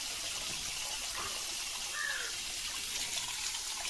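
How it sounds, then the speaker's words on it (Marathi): Water runs during a small child's bath, a faint, steady trickle and splash under a soft noisy background, continuous throughout with no clear speech. "पकडू लिओ पाण्याला. आंघोळ करायची."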